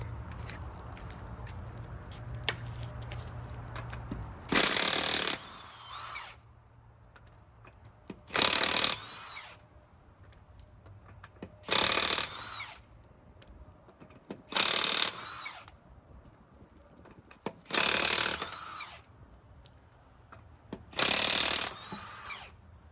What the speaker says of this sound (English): now that it's jacked up, we can take off the lug nuts